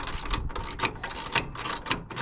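A ratchet clicks in short, regular bursts as it tightens the nuts on a caravan jockey wheel, an Ark 750. The clicks repeat about every half second and sound fairly near and moderately quiet, with no voices.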